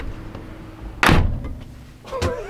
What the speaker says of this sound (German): Du musst unbedingt noch mal bitte diese Aufbautür mal feste zuziehen